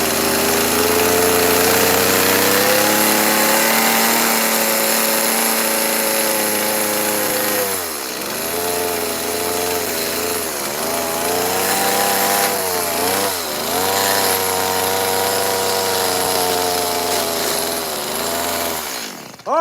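A chainsaw carves a wooden bear sculpture, with a loud, sustained, close engine whine. Its pitch dips sharply several times as the chain bites into the wood, then climbs back to a high rev.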